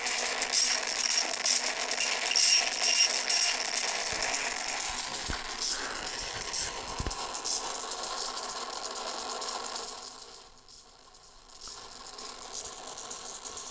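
Audio processed through an experimental Airwindows 'divide' plugin effect, giving a dense, gritty, broadband wash with ratchet-like mechanical clicking, steady and loud before thinning out briefly near the end.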